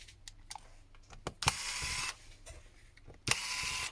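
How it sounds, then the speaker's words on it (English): Small screws being worked out of the back of a Nokia C3 mobile phone during disassembly, giving faint close ticks and clicks, with two longer bursts of scraping rasp, quiet and alone. "we need to unscrew the screw on the back here"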